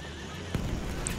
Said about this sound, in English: There's a horse after me.